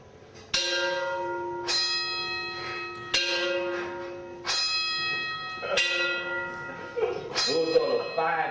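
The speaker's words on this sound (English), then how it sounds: "Those are the 5 a.m. plantation bells calling black folks to work the sugarcane field" Plantation bells ring at 5 a.m. on a sugarcane plantation, six or so clear, resonant strikes about a second and a half apart, each decaying slowly, moderately near, with faint talk underneath.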